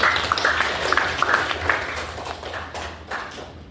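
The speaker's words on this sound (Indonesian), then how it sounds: "Tepuk tangan untuk kita semua." A class of schoolchildren claps together during an ice-breaking activity before a coding and computational thinking lesson, a fairly close, steady burst of hand claps that gradually thins out.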